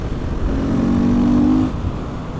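A motorcycle rides in fifth gear, its engine a steady droning hum that swells and holds for about a second before easing off, heard close under rushing wind noise with no talking.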